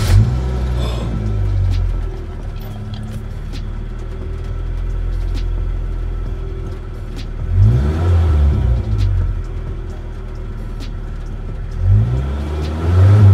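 A 1989 Ford Ranger truck engine idles steadily up close, then revs sharply twice, with the pitch climbing and falling back before the idle settles again.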